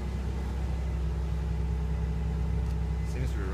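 A car engine idles steadily after sitting unused for about six months. The low, even rumble runs close and constant throughout.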